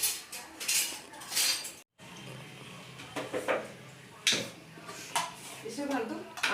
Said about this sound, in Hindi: और पिंकी अभी अपने बर्तन घसने में लग गई है।